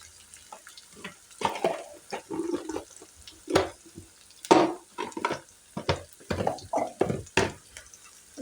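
Chopped ivy gourd with turmeric frying and being stirred in a pan, giving irregular bursts of scraping and hissing that rise and fall unevenly.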